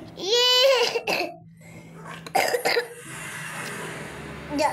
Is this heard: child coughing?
yes